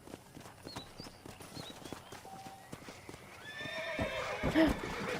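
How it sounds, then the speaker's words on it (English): Hooves clip-clop at a walk in the Red Dead Redemption western game, then a horse lets out a loud whinny near the end, with soft ambient sounds around. "I just got off my horse"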